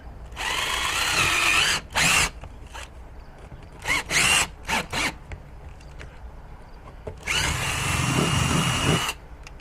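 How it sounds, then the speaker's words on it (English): Several loud bursts of a power drill whirring while drilling a hole for a backup camera install, short ones at first, then a longer sustained run near the end, with brief pauses between. "let me figure out where I'm going to drill the hole at"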